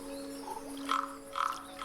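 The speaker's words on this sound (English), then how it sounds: "Oh no, that's a frog." Frog croaking inside a Myst-like exploration video game: a few short, moderately loud croaks with a pause between them, over a steady ambient drone.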